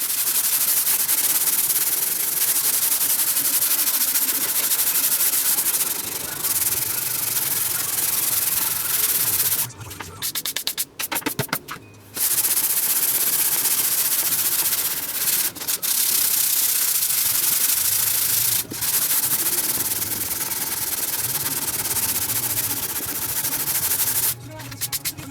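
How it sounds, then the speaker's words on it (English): Sandpaper rubs steadily against the wooden body of a 12-string guitar in continuous close scraping strokes, broken by a few brief pauses. "we're just gonna get the rest of this sanded off"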